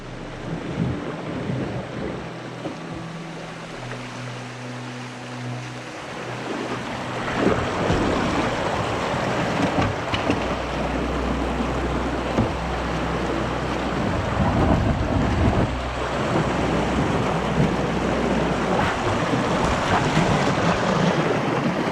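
Heavy rain at a fall canoe campsite, a dense, loud wash of hiss and patter with low rumbling underneath that builds and holds steady throughout, no voices.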